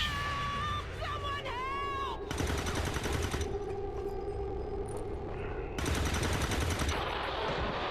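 Gunfire in XCOM 2 comes as two long bursts of rapid automatic shots, loud and dense, with game sounds and a speaking voice between them.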